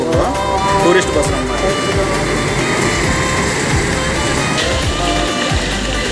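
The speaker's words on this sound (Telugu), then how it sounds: "ఇవి డక్ బస్సులు అంటారు" An amphibious duck tour bus rumbles past along a busy Singapore street near Arab Street and North Bridge Road. Its steady engine and traffic drone fills the scene while a voice talks over it.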